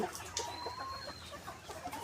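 Layer hens on a poultry farm cluck and chirp continuously, close and fairly loud, with a steady barn hum beneath and one thin drawn-out call rising over the flock.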